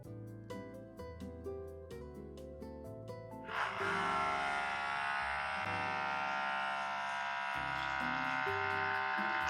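A portable CERA espresso machine fitted with an IMS upgrade basket, a rhythmic pulsing pump at first, then a steady loud buzzing hum that holds to the end.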